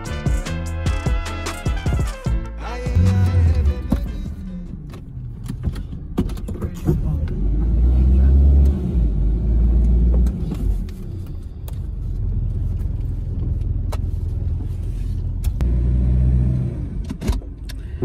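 A car rumbles along with low road noise, interior clunks and rattles, swelling and easing as it drives, with brief talk at the start.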